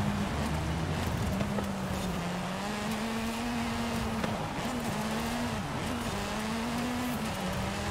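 A 1994 Ford Escort RS Hoonigan rally car drives in the racing game Forza Horizon 5, its engine droning steadily at a fairly even pitch with slight dips as it shifts and turns.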